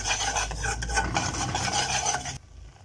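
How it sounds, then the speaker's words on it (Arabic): A spoon stirs and scrapes a chicken stock cube with flour and garlic as they toast together in a pan. The close, rough stirring goes on for about two seconds, then stops abruptly. "نقلبه برضو مع الدقيق، نحمصهم مع بعض شوية"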